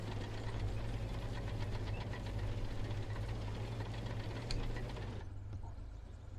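A steady, loud helicopter engine hum and rattle in a military video game runs continuously, then drops in intensity near the end; no talking over it.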